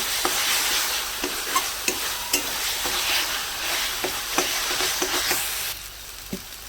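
Spice paste for village-style egg curry sizzles steadily in oil, with frequent sharp scrapes of a spatula stirring through the thick masala, all close and without talk.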